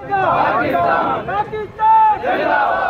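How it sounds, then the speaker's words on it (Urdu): Rally crowd marching from SP Chowk to the press club in Dadu chants slogans in loud, rhythmic bursts of massed voices, with short pauses between phrases and a ragged, shouting quality. "ریلی کے شرکا نے کشمیر بنے گا پاکستان کے نعرے بلند کیے۔"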